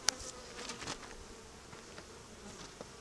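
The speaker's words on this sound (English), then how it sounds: "Freaking bees." Bees buzzing faintly around a honey harvest, a soft continuous hum with a few sharper passes near the start, no talking.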